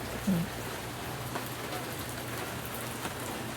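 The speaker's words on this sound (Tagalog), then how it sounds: "salamat ka sa Ginoo kay may ulan, di kay kumahago o bubo" Afternoon rain falls on potted garden plants, a steady close hiss of drops pattering on leaves and surfaces throughout, with one soft thud near the start and no talking.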